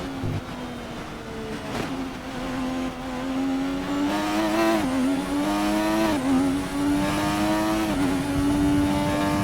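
1988 McLaren Formula One car in the F1 2020 video game lapping the Japan short circuit, a loud, sustained engine whine that rises and falls through repeated gear changes and revs, with no talk over it.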